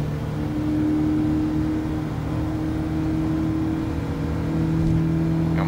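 Standard car engine in a Gran Turismo 7 race, a steady droning hum at held revs with a slight rise in pitch, loud and continuous with no talk over it.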